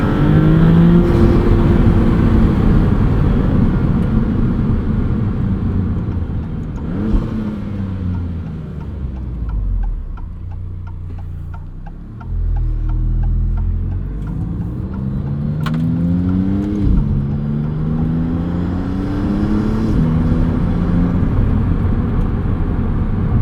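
A 2022 Maserati MC20 engine drones loudly and continuously from inside the car while driving, with pitch rising and falling through revs and a few brief flutter chirps as the throttle lifts.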